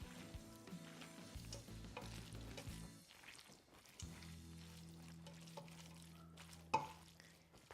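Fettuccine Alfredo sauce is stirred in a pan with a soft, steady sizzle, gentle stirring noises and one sharp clink near the end.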